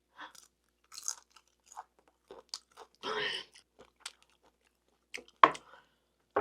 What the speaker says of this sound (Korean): 저는 막창 이렇게 바싹 구워가지고 바삭바삭하게 먹는 걸 좋아하거든요